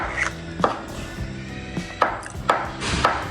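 Sharp knife chops cutting vegetables on a cutting board, several separate strikes spaced unevenly, fairly close and moderately loud, with no talking.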